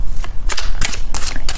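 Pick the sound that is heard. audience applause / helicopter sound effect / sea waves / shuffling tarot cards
shuffling tarot cards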